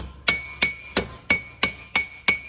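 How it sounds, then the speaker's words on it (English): A ball peen hammer strikes sheet metal seven times in a steady rhythm, each sharp, ringing metallic blow spaced about a third of a second apart, close and clear with no voices. "you can use smaller ball peen hammers to get in tighter spots too"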